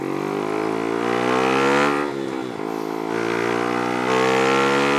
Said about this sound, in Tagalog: Napakabilis tumaas ng RPM.